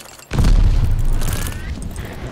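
A sticky bomb detonates in a multiplayer shooter match, a sudden loud boom after a brief quiet start, followed by a long rumbling tail with distant gunfire and game noise in the background.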